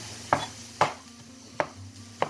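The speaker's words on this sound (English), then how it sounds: "Always good when you've got a sharp knife in your hand, just blindly chopping away" Sharp knife chopping mushrooms on a cutting board, four distinct knocks spaced unevenly about half a second apart, close and clear over a low background hum.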